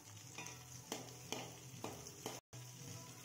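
A tempering of mustard seeds, urad dal, shallots and curry leaves is sautéed in oil, heard as a faint, steady sizzle with four or five soft stirring scrapes at a roughly even pace and a brief dropout near the end.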